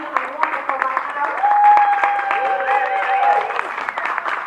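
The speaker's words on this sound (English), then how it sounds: "I would like for all of you to please give a wonderful round of applause to these amazing women" Audience applause at a Sync Musica panel at Miami Web Fest, a steady wash of clapping mixed with voices and tonal sounds throughout.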